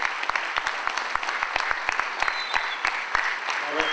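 An auditorium audience claps during a benefit show for a fire brigade, a dense steady round of applause with sharp individual claps standing out close by throughout.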